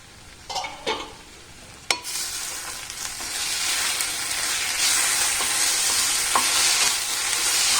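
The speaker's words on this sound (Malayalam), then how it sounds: "നന്നായിട്ടൊന്ന് മിക്സ് ചെയ്ത് കൊടുക്കാം. ഇളക്കി കൊടുക്കാം." Okra thoran stirred in a pan on low flame, a few scraping clatters of the spoon followed by a steady, close sizzle of frying that grows slightly louder.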